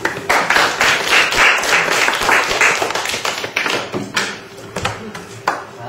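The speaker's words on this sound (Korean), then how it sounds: "별탈 없으면 박수와 함께 시작하겠습니다." Audience clapping at a school parents' theatre troupe's staged reading of Chekhov, a dense burst of many hands that thins into scattered claps near the end.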